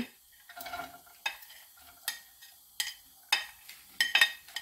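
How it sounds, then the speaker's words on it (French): Onions and shallots frying in oil in a pan for a quiche, heard as close, regular spatula scrapes and stirs over a faint, soft sizzle. "Je vais faire revenir mes oignons et mes échalotes."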